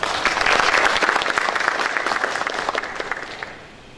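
An audience at a university public hearing on legislation applauds warmly to welcome a National Assembly member. The dense clapping swells early, holds, then thins out and fades near the end.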